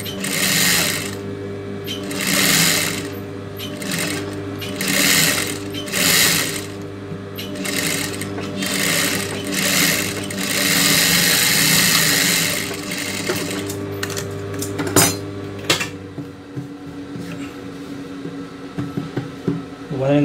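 A tailor's sewing machine stitches a lace neck blouse in repeated bursts of fast mechanical whirring separated by short pauses, loud and close, with the motor hum easing toward the end.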